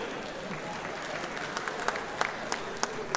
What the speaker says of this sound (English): if you want to clap, you can always clap